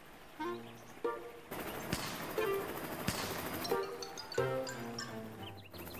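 Several sharp gunshot-like cracks ring out over a continuous roaring engine noise, with a few short tonal beeps scattered throughout.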